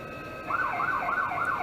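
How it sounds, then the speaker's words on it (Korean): A wailing siren rises and falls in repeated sweeps near a chartered bus blocking a road, starting abruptly partway in and holding steady and fairly loud against low background noise. "또 사이렌까지 울리네?"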